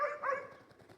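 A dog gives one short, sharp bark nearby, followed by a quieter second yelp.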